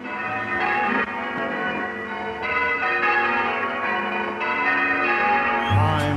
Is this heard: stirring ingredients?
no